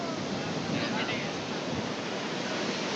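Sea waves at a beach shore make a steady, broad, roaring wash, with wind buffeting the microphone throughout.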